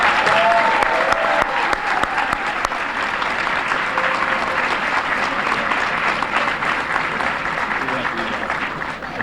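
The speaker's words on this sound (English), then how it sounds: "let's give him a round of applause, the Fire Chief of Greencastle" A crowd on a college campus claps for a fire chief, a dense and loud round of applause that continues for about nine seconds with some voices briefly mixed in.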